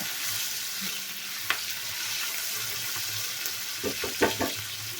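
Chopped garlic, green chilli and tomato fry with okra in a pan, giving a bright, continuous sizzle. Spatula scrapes and taps cluster toward the end as everything is stirred together.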